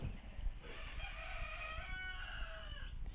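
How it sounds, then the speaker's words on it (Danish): A rooster crows outside, a drawn-out cock-a-doodle-doo that carries over a low background rumble, with a little clucking from the hens around it. "der er høns udenfor"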